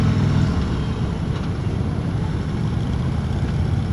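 A 2016 Harley-Davidson Road King motorcycle rides along a straight road, its engine a steady, loud low rumble heavily mixed with rushing wind, continuous throughout.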